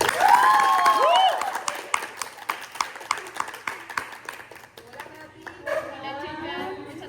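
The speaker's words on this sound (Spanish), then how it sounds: "Por favor, un aplauso a la doctora Natalia Mairena." Applause welcoming a guest onto a podcast, a burst of clapping that starts loud and thins into scattered claps over several seconds, mixed with voices talking and exclaiming throughout.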